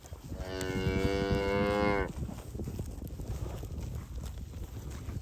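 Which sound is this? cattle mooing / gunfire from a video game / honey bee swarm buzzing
cattle mooing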